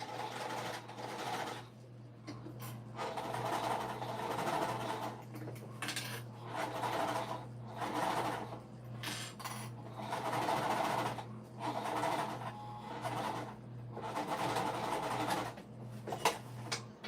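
A sewing machine runs in repeated bursts of fast stitching on a bag, separated by short pauses and small clicks and rattles, close and moderately loud with no talking.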